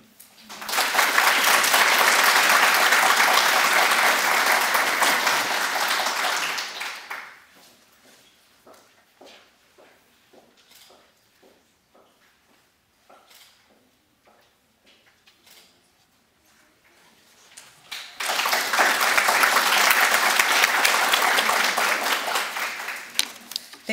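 An audience at a 2024 educators' award event applauds the Southeast Award winners. A loud burst of clapping fades to sparse scattered claps and footsteps in a quiet room, then a second full round of applause swells near the end.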